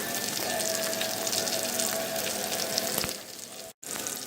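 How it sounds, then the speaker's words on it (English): Pancetta fries and renders its fat in a pan, giving a steady, close, bright sizzle that fades slightly toward the end and then cuts out for a moment before resuming. "render that pancetta down to have some of the oil and some of the fat"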